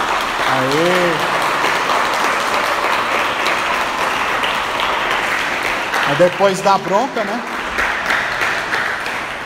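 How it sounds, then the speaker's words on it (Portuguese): A church congregation claps together in sustained applause at a pastor's urging, steady and fairly loud throughout, with people calling out and talking over it. "dê uma salva de palmas para Jesus"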